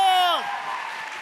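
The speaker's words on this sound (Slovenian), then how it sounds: "To je en aplavz za Fabijana, ajmo!" Applause for Fabijan at a St Nicholas (Miklavž) concert in 2023 breaks out as a voice's drawn-out call falls away, then continues as a steady crowd clapping texture.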